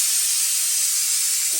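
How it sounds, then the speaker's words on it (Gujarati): A pressure cooker boiling chickpeas on a kitchen stove vents steam in a loud, steady hiss that holds unbroken for the whole moment, with no voices. "અહીંયા એક મૂકી દીધું છે કુકર, એમાં બફાય છે શેણા, હમણાં સીટી વાગશે"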